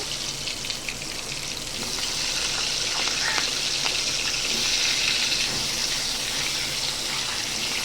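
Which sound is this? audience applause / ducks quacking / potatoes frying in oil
potatoes frying in oil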